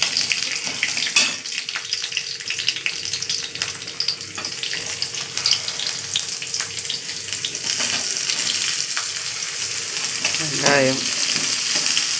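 Garlic and onion fry in a pan with mustard seeds and cumin, giving a continuous close sizzle with stirring scrapes throughout and a brief voice near the end.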